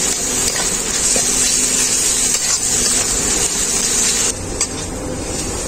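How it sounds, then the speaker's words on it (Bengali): Garlic paste hits lightly fried onions in a pan for a Dak Bungalow chicken curry, giving a loud, steady hiss of sizzling oil close to the mic, with a few scraping stirs. The sizzle eases slightly near the end. "এখন আমি এর মধ্যে দিয়ে দেব রসুন বাটা"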